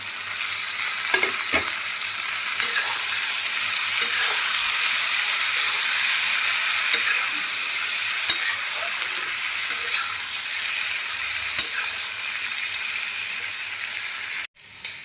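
Okra (bhindi) fries in a pan, producing a loud, continuous close-up sizzle with occasional stirring clicks, broken briefly by a short gap near the end.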